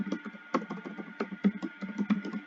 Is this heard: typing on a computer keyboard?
yes